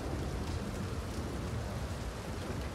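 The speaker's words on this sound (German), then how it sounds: "Ja, minus 7 und Regen." Steady rain in cold weather in the Red Dead Redemption 2 video game, a dense continuous hiss of rainfall with no breaks, fairly loud and even across the few seconds.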